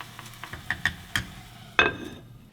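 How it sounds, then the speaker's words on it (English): Abalone rice being stirred in a pot, a series of close scraping and tapping strokes over a soft sizzle, ending with one louder clank that rings out briefly. "Stir nicely and cover."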